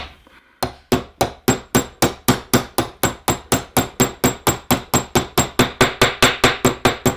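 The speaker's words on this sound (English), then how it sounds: "you're going to need to repeen a little bit." A hammer strikes the ground-down lip of a brass rifle shell case to repeen it, about twenty sharp metallic taps at a steady, fairly quick pace, close and clear with no talking.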